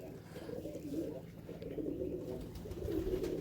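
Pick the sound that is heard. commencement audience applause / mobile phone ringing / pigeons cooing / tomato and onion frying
pigeons cooing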